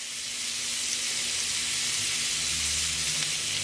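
Food sizzles steadily in a hot cast iron grill pan lightly greased with oil and cooking spray, a constant close hiss and crackle with a faint low hum underneath and no talking.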